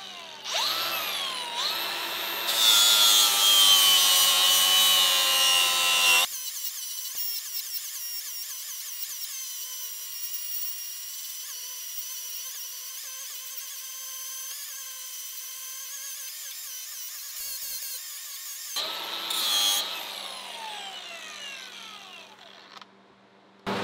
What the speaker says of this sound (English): using one of these grinding and finishing discs, I could take this thing down and not leave too many big scratch marks